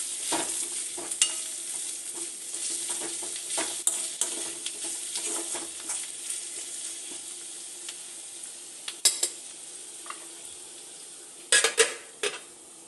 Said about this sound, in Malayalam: ഇഞ്ചി വെളുത്തുള്ളി പേസ്റ്റ് നമ്മുടെ സവാളക്കകത്ത് ചേർത്തിട്ടുണ്ട്. അത് നമുക്ക് മിക്സ് ചെയ്യാം.